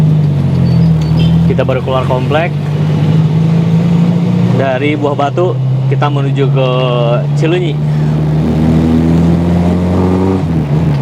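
A white 1987 Suzuki Katana Long cruises along a toll road with a steady engine drone and road rumble, as someone talks over it from inside the cabin.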